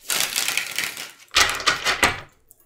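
A tarot card deck shuffled twice up close, each shuffle a dry, papery rustle of riffling cards with a short pause between the two bursts.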